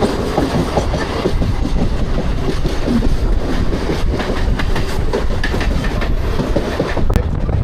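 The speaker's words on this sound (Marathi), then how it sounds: "कल्याणला जाण्यासाठी आपली लोकल ट्रेन." A Mumbai local train runs steadily on the line to Kalyan, a loud continuous rumble with rhythmic clickety-clack of wheels over rail joints and wind rushing past, heard up close from inside with no talking.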